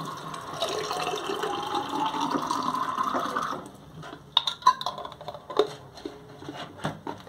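Water running into a jar of tomato seeds being cleaned, a steady filling rush for a few seconds, then stopping, followed by scattered clinks and glassy knocks of the jar.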